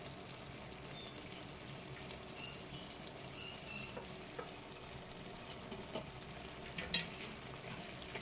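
Grated coconut is stirred into mustard paste in a frying pan, giving a faint, steady low sizzle with occasional soft scrapes and one slightly louder clatter near the end, quiet and free of talk.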